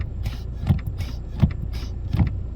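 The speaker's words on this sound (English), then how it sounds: "Hear that click sound, guys," A brake light switch on a Ford Fusion SE clicks three times at a steady rhythm, each a short low knock close by over a faint background hum.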